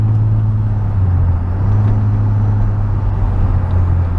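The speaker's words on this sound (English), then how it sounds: "Definitely wake the neighbors driving down the street with the Z1 test pipes. It's stupid loud." Boosted Infiniti G35 with Z1 test pipes idles with a deep, steady exhaust drone, a heavy low rumble holding constant and loud throughout with no revving.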